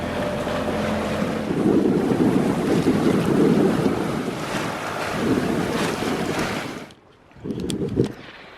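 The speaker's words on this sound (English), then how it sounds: "these huge, I don't even know, like 6 or 8 foot swell that's out here is just very uncomfortable" Large ocean swell of roughly six to eight feet surges around a sailboat, with heavy wind buffeting the microphone and waves rushing past in loud, rolling pulses, then dropping briefly before another burst of water.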